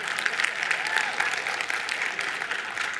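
Audience applause during a church sermon, a brief scattered clapping that stays moderate and fairly thin across the whole stretch, with no voices over it.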